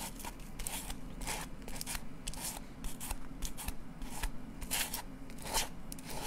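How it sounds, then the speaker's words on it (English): Scissors snip through paper in a studio, giving a steady run of close, crisp cuts with a soft crackle, with no talking. "So I'm actually just cutting the paper."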